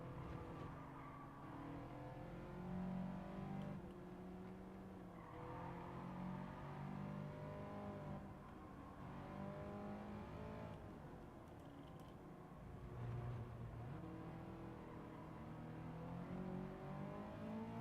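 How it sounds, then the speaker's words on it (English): Toyota Supra race cars in Gran Turismo 7 roar around a track, with a steady, rising and falling engine drone and shifting revs that run continuously without speech. "I got like Supras that I'm racing on here"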